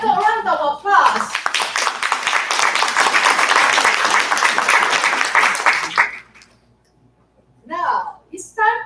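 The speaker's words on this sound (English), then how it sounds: "Let's give them another round of applause" Audience applause for people who shared testimonies at a company event, a dense sustained round of clapping lasting several seconds, bracketed by a presenter speaking before and after.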